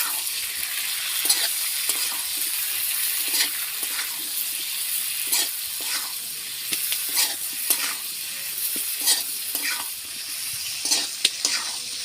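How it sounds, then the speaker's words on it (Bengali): Onions fry in hot oil in a pan alongside potatoes, giving a steady close sizzle broken by soft stirring scrapes throughout, with no talking. "পেঁয়াজগুলো দিয়ে আমি ভালো করে ভেজে নেব।"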